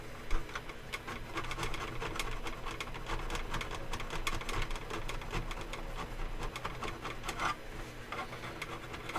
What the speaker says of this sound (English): I'm using a file which usually just chips it off instead of really making any dust